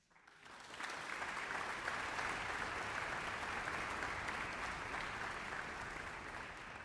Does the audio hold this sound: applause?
yes